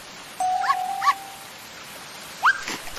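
A small dog gives a few short, high whimpering yips with a thin whine, spaced over a few seconds against a quiet background.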